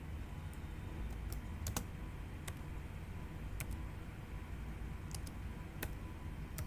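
Someone types a command on a computer keyboard: scattered, crisp key clicks in short irregular runs over a steady background hum, with no one speaking.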